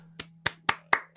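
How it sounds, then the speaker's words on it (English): A small audience at an improv comedy show claps in a few sharp, separate hand claps, about five distinct slaps in just over a second, close and fairly sparse. "Round of applause for all the improvisers you've seen tonight."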